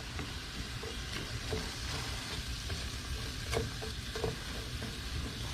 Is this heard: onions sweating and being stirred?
yes